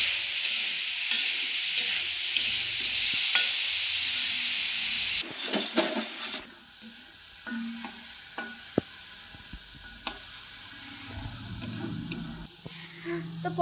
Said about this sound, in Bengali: এবার ওই একই তেলে আমি পটলের বীজগুলোও ভেজে নেব।